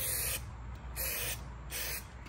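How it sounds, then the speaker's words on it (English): Super 77 spray glue is sprayed onto a pool table's rails in three short, close hissing bursts separated by brief pauses, with no talk. "spray glue, I'm using the spray Super 77"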